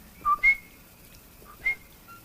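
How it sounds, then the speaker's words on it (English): A coqui frog calls at night, giving two short clear whistled notes, a pause, then another pair and a faint single note, sounding fairly close over a quiet background. "The coqui frog, it's a small toad that sings only at nighttime."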